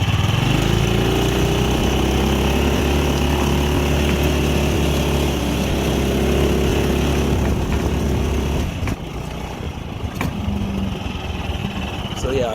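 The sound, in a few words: Yerf-Dog Spiderbox 420cc buggy engine driving off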